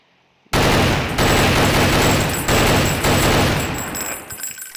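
In the video game Counter-Strike, a gun opens fire after a brief silence, unleashing loud, rapid automatic bursts of roughly a second or more each that continue for several seconds before tapering off.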